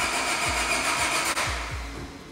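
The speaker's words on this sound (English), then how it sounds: "That's why you heard the car trying to start." Honda Civic engine trying to start, heard from a distance as several repeated cranking bursts at an uneven rhythm under a steady background hiss, without catching.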